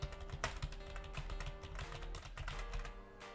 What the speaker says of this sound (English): I'm going to click a few keys real fast on the keyboard.